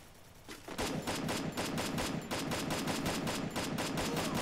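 Rapid gunfire rattles through a battle royale shooter match, sustained bursts of automatic shots cracking in fast rhythm for several seconds, loud and dense, with no talking over it.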